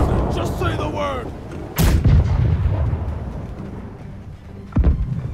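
Two heavy ship cannon blasts boom a few seconds apart, loud and close, with rumbling tails, over a busy game soundscape in the naval video game Blackwake.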